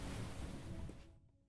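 Water waves in the video game UNMETAL, a continuous rushing wash of surf that holds steady, then thins and fades out near the end.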